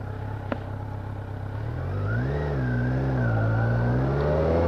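A Kawasaki Z900 motorcycle engine hums at a steady idle, then revs up and holds a rising, wavering throttle as it pulls away, close and loud with no talking.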